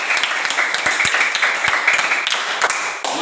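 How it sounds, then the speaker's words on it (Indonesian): A class of students applauds together at a teacher's request, a dense patter of many hands clapping steadily for about three seconds, close and fairly loud, with a few sharper individual claps standing out. "Sekali lagi tepuk tangan dulu."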